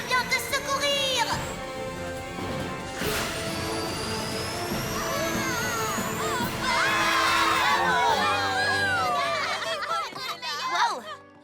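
A crowd of cartoon ponies cheers and shouts in a My Little Pony episode, a busy, sustained roar of excited voices with children's cries, mixed with music and dialogue, swelling louder near the end.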